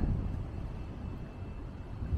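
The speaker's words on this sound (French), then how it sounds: "En fait, il fait beau, mais il y a du vent." Wind buffets a microphone outdoors on a sunny day: a constant low, blustery rumble with slight gusting swells and no voices.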